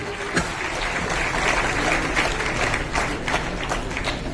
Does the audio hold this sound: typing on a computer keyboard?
no